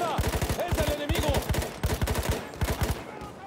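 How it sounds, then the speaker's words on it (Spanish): Machine gun fire in the video game Battlefield 1 comes in sharp, rapid bursts of four or five rounds each. The bursts repeat steadily, close and loud, across the whole stretch. "¡Una ametralladora! ¡Es el enemigo!"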